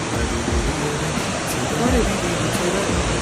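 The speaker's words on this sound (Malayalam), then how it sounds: "വെള്ളച്ചാട്ടം കണ്ടു" Steady roaring rush of falling water, broadband and continuous, like a waterfall heard close by, filling the whole clip without pause.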